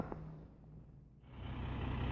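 A concrete truck arrives at a construction site for a garage slab pour, its engine rumbling, easing off briefly, then swelling louder again toward the end, with faint tones that may be reversing beeps. No one speaks.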